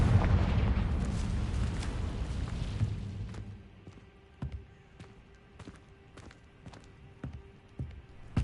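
A Confringo fire spell in Hogwarts Legacy bursts in a loud, rumbling explosion that slowly dies away over about three seconds, followed by scattered quieter thuds and knocks.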